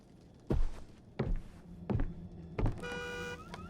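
In the horror video game Visage, four heavy thudding footsteps land in a slow rhythm, then a car alarm briefly sounds a pulsing electronic tone near the end, moderately loud and somewhat distant.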